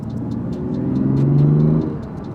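A BMW M2 engine revs with a loud intake roar, swelling to a peak and easing off in a single short, deep, close-up rev with a rumbling idle on either side.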